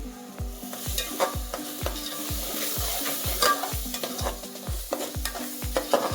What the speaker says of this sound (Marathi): सर्व मसाला आपण छान मिक्स करून घ्यायचे